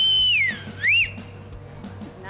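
A person whistles a few sliding, swooping notes, one high descending glide followed by a quick rising-and-falling sweep, loud and close over quiet room noise.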